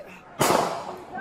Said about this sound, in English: He's shooting at us! Shots fired, officer needs help.